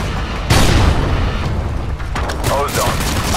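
A frag grenade blasts in the video game Modern Warfare 2, a sharp booming burst followed by a rumbling tail and scattered gunfire, with voices talking over the combat.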